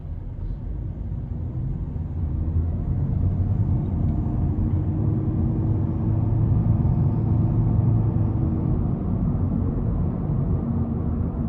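A 2022 Honda Insight Touring 1.5 hybrid on a road test drive gives a steady low cabin rumble of engine and road noise, swelling slightly mid-way, continuous and without talk.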